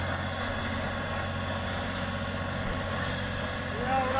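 A New Holland 3630 Special Edition tractor fitted with a Jagatjit super seeder idles steadily nearby, a constant low engine drone with a faint rise in level near the end.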